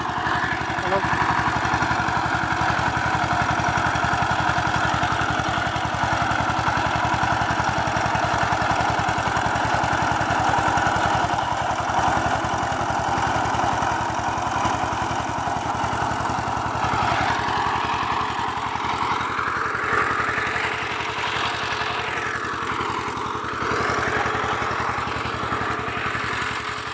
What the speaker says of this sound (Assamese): ট্ৰেক্টৰ মোৰ টনা হৈ আছে এতিয়া মই টানিম